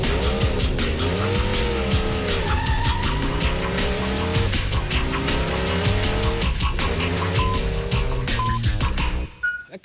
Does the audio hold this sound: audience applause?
no